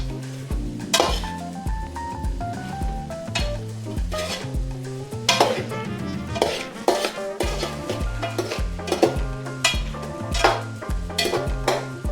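Kerala-style chicken curry gets stirred in a pot with repeated scraping and clinking of a spoon against metal, a soft sizzle underneath, close and fairly loud with no talking.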